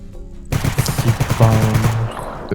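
Rapid bursts of automatic gunfire in the video game S.T.A.L.K.E.R. Anomaly crackle close by in a fast, uneven rhythm, with heavy booming impacts running through the middle.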